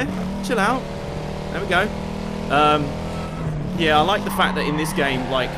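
Engine and exhaust of a car in the racing video game Need for Speed: Carbon, a steady drone that swells and revs in short bursts, running throughout beneath a man's close, continuous talk.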